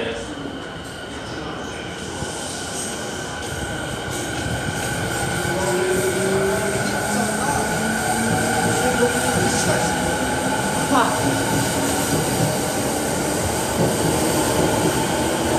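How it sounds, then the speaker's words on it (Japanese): A Saikyo Line local train bound for Omiya pulls into a Tokyo-area station platform, its steady rumble and rolling wheels building gradually with faint squeals, while a platform announcement plays over the noise. "3番線には渋谷方面より埼京線各駅停車大宮行きの列車到着です。"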